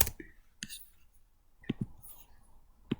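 Computer mouse clicks in a design program while switching tools, a few sharp isolated clicks spread across a quiet stretch, with faint background noise between them.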